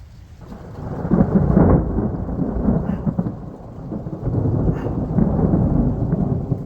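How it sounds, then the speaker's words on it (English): Heavy thunder from a storm moving into Prince George in Western Canada: a loud, continuous rolling rumble that swells and eases, with rain hissing underneath and no talking. "the storm coming into Prince George"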